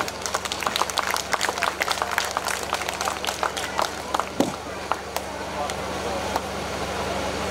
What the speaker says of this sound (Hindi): जोरदार तालियां एक बार इन बच्चों के लिए